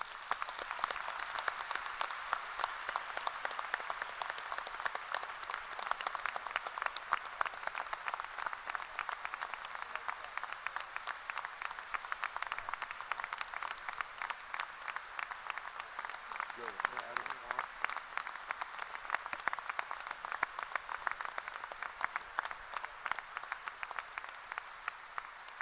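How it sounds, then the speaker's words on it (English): Sustained crowd applause at the 2017 VCU School of Medicine hooding ceremony, a dense steady wash of many hands clapping that holds for the whole stretch, with faint voices mixed in underneath. "Give yourselves a huge round of applause."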